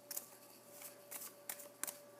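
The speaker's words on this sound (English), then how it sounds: "I'm going to give these cards a little bit more shuffle" A deck of tarot cards is shuffled by hand, giving quiet, brief riffling bursts, about five in a row with short pauses between, close and soft against a low steady hum.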